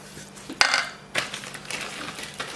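Masala for a Khandeshi jaggery raw-mango pickle is stirred in a pan, with close, gritty scraping strokes and metallic knocks coming in short bursts.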